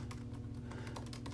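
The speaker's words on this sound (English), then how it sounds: "just typing HTML and getting HTML5" Quick, irregular keystrokes from someone typing HTML on a computer keyboard, close and clear over a faint steady hum, with no talking.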